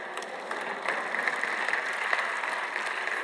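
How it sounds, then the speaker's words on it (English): Applause in a church-style auditorium, steady and continuous for the whole stretch with no voices, sounding like a broader audience than one person clapping. "I got one lady out here that claps when I say good stuff"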